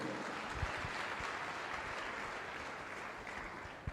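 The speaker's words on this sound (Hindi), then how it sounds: "ताली बजाओ परमेश्वर के लिए।" Congregation clapping for God at a Hindi church service, a faint, distant, steady patter of applause with a few sharper claps, continuing throughout.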